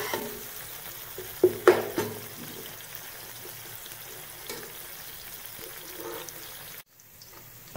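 Onions fry in a pan for aloo matar pulao, giving a steady soft sizzle with a few brief clatters of stirring near the start.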